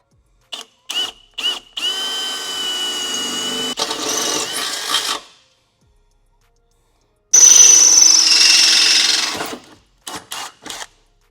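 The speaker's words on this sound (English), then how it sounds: "I'm gonna take this applied drill bit and drill through the frame." A power drill runs loud and close, grinding steadily through the steel frame of a Jeep JT Gladiator with a high whine, stops, then starts again, with short bursts at start and end.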